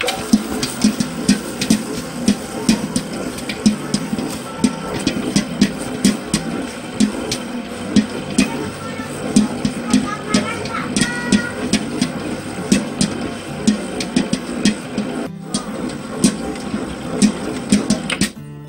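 An electric bread dough mixer runs steadily, working dough for sale loaves, a continuous mechanical hum with a regular rhythmic knocking throughout, close and moderately loud with no talk.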